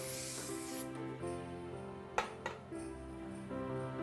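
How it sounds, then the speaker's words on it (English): A long hissing burst of spray opens, followed by quiet rustling and a couple of light clicks. "I'm going to add a little spray."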